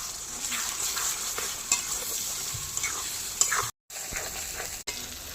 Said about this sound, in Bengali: এবার মশলা ভালোভাবে কষিয়ে নেব